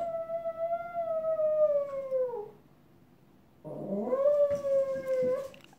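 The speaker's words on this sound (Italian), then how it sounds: "Sentite Blizz che ulula" A dog howls in two long, wavering cries with a short silence between them; the howls are close, loud and alone, with no talk.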